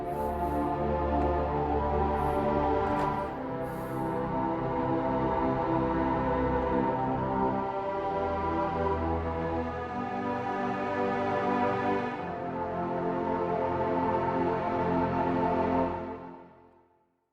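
Three layered synthetic string patches from Heavyocity NOVO String Designer blended together, a dense sustained textured drone with low pulsing swells and a few high shimmering accents, fading out at the end, no voices.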